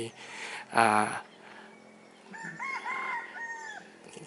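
A rooster crows once loudly and close, followed after a pause by softer, higher chirping and calls from other birds nearby, in the morning at a hillside viewpoint in Mae Hong Son, Thailand.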